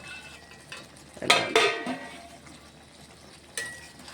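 Ivy gourd and tomato chutney is stirred in a pan, soft scraping with two clear clanks of utensil on metal, then a quiet simmer and another brief scrape.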